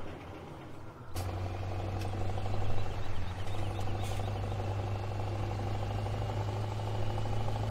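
A truck engine idles in a farming video game, starting with a clunk and then settling into a steady, low, continuous drone with a faint mechanical hum over it and no talking.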